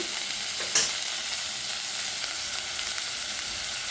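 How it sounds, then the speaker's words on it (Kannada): Ground masala frying and sizzling in a pan for avarekalu upma, a steady loud hiss with a brief scrape of stirring near the start, no voices. "ಮಸಾಲೆ ರುಬ್ಬಿದ್ದೆಲ್ಲ ಅದನ್ನು ಹಾಕ್ತಾಯಿದ್ದೀನಿ ಹಾಕಿಬಿಟ್ಟು ನೀವು ಚೆನ್ನಾಗಿ ಏನು ಮಾಡಬೇಕು ಹಸಿ ವಾಸನೆ ಕೊಬ್ಬರಿ ಹೋಗೋ ತನಕ ಹುಲ್ಕೋಬೇಕು"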